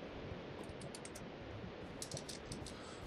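Soft, quick keystrokes on a computer keyboard, faint and steady clicking with no voices over it.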